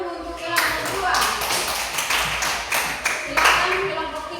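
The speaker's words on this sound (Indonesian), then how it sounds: "Tepuk tangan dulu untuk kelompok 2." Schoolchildren in an elementary classroom clap for a group of classmates, bursts of loud, fairly close applause with uneven rhythm that swells and fades over a few seconds.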